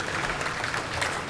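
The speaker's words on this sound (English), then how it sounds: "Round of applause for all the competitors today." Applause from the audience at a jiu-jitsu invitational competition, a steady, dense wash of clapping that holds at an even level for just over a second.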